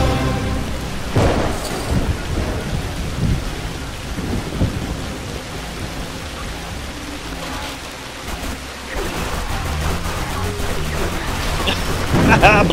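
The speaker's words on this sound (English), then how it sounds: "It's rain." Rain pours steadily in Zombie Driver HD with rolling thunder crashes near the start and end, a loud continuous downpour; someone talks over it.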